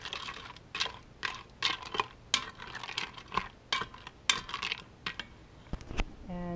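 A spoon stirs pasta, garlic and meatloaf ingredients inside an Instant Pot, producing a steady series of scraping, clattering strokes about every half second, close and fairly loud with no talking.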